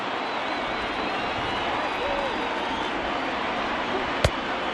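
In MLB The Show, a ballpark crowd of about 23,000 rises and cheers, a dense steady roar that holds throughout with a play-by-play voice faintly under it and a brief sharp knock near the end.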